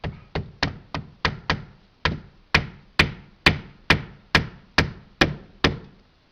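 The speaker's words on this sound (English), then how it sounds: "this is like an 18 or 20 ounce framing hammer" An 18 or 20 ounce framing hammer strikes about fifteen sharp blows at a steady rhythm while roofing and fitting windows, close and clear, each hit ringing out briefly with no talking.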